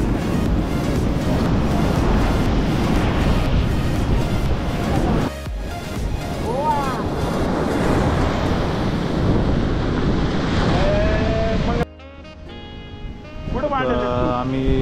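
Surf rolls and washes onto Anjuna Beach in Goa, a loud continuous roar mixed with heavy wind buffeting the microphone, with voices talking over it.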